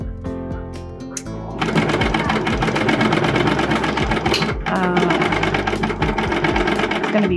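A serger overlocks a back seam of a jacket, its motor whirring in quick rhythmic bursts that start softer, then run loud and steady with short pauses and restarts.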